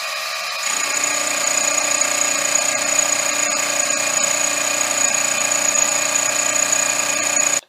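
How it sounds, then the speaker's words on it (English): A milling machine takes a climb milling pass across a metal workpiece while machining a milling vise speeder part, giving a steady, loud whine with high tonal harmonics that holds for several seconds and cuts off abruptly at the end. "we'll feed it in just a little bit more, and we'll do a climb milling pass"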